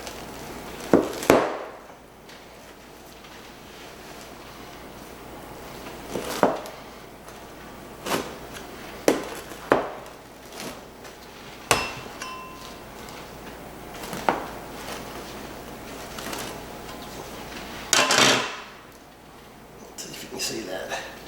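A hand-tossed pepperoni pizza baked on a steel being sliced with a series of sharp, separate cutting strokes spaced irregularly, close by, with soft kitchen noise between them and no talking.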